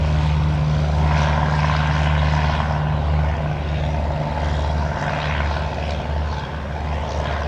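Steady propeller drone of a Piaggio P.180 Avanti on the runway at takeoff, a loud close turboprop roar with a constant low hum that holds evenly throughout.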